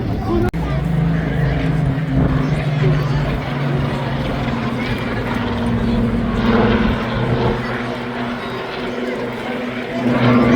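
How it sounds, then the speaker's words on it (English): Spitfire Mark 19 rolling overhead at a seaside airshow in Blackpool, a steady engine drone heard outdoors at moderate distance, continuous and fairly loud, with a crowd or commentary murmur underneath. "Spitfire roll in the sunshine."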